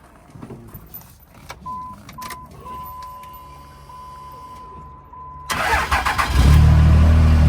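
A truck engine cranks and catches near the end, roaring loudly after a quieter stretch with faint background noise and a thin steady tone.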